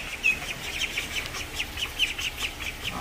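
Little ducklings peep in quick, high, repeated calls that sound fairly close and steady throughout, with no voices over them.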